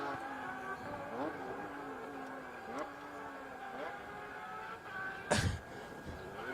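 Porsche rally car on a special stage of Rally Wervik 2022, heard far off: a faint engine note rising and falling through gear changes, gradually drawing nearer beneath a steady background.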